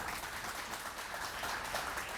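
Audience at a maritime university event applauds to welcome the university president, a brief, faint wash of steady clapping throughout.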